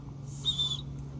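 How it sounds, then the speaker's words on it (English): A small survival whistle supplied with a Gerber fixed blade knife gives a single shrill, piercing blast lasting under half a second, fairly close and clear over quiet low background hum. "it comes with a little whistle"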